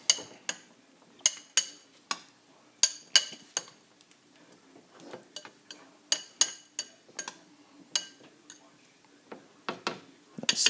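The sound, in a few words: mixing taco ingredients with white vinegar in a bowl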